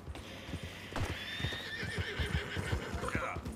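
A horse whinnies over steady clip-clopping hooves in Red Dead Redemption 2, fairly close, in a game-like setting with faint background sounds.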